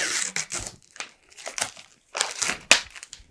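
Protective film peeled by hand off a black plastic teleprompter part, giving several short crinkling, crackling tears in bursts with brief pauses, close and fairly loud.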